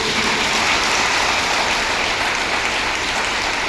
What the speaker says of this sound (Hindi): ताली बजाइए किसके लिए?